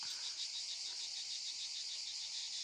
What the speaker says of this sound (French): on a des cigales aujourd'hui